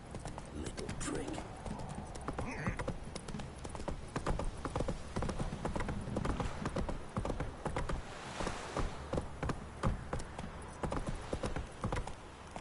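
Roach, a horse in a video game, galloping with fast rhythmic hoofbeats that run throughout, with a brief whinny and someone talking over the top.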